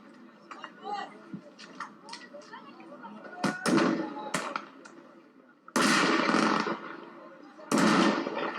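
Gunfire rings out during civil unrest: scattered sharp cracks, then several loud, close bursts of rapid shots, with voices talking in between.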